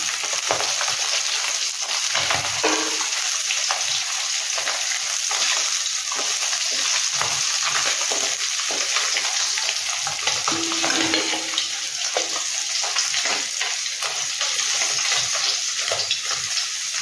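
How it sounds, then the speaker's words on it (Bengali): Tengra, a small freshwater fish, frying in oil in a pan, a continuous close sizzle and crackle with occasional scraping and stirring, and no voices. "এবার একটা পাশ ভেজে নিয়ে আমি অন্য পাশটাও ভেজে নিচ্ছি"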